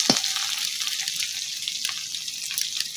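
Onion frying in a pan for a carrot and eggplant pea curry, a steady sizzling hiss throughout with small crackles and pops, close and alone without talk.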